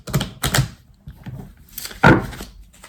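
Persian tarot cards drawn and laid down one after another, giving soft papery slaps and taps in a short irregular run, close and fairly clear with no talk.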